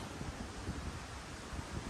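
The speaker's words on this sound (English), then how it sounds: "And it's back windy and sleeting again." Wind outdoors in sleety winter weather, a steady low buffeting rush with gusty rumbles, as if blowing against the microphone, and no voices.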